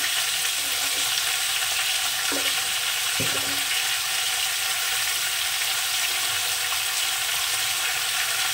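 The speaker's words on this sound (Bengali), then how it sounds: "এবার তরকারিটাকে আমি একটু কষে নেব" A shrimp and vegetable-stem curry fries in a pan with a loud, unbroken sizzle close by, broken only by a few low thuds, with nobody speaking.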